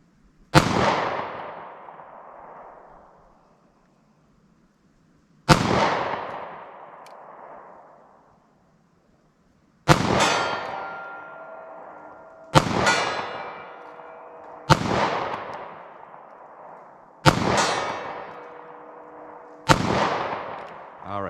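Seven sharp gunshots from a small 9mm Taurus pistol fired at steel targets 50 yards out, spaced a few seconds apart at first and then more quickly, each loud crack trailing off into a ringing metallic echo.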